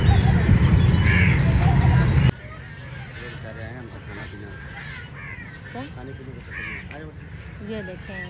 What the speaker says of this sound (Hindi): ये देखें साथ में इनके कौवे भी हैं जिन्हें ब्लैक क्रो कहा जाता है।